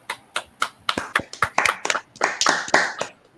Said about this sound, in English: Everybody, round of applause for Rae.